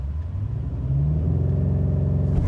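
A 2024 BMW X5 M Competition with a twin-turbo V8 launches hard, its deep engine rumble building and climbing in pitch as it accelerates, loud and continuous with no talking.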